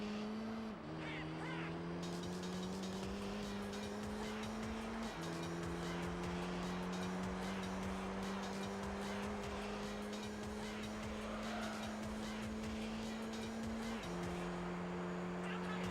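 Race car engine in a racing video game driving a Super GT-style car, a loud continuous drone that climbs in pitch and drops at each gear shift, heard alone throughout.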